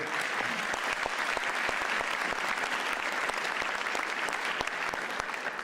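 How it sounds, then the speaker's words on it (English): A large audience applauds steadily at the swearing-in ceremony of a new LA County sheriff, a dense continuous wash of clapping heard from some distance. "That's what they're applauding about"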